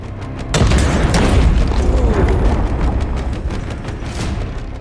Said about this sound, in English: A Ukrainian Abrams tank receives the coordinates, aims its cannon, and hits the target with a single shot.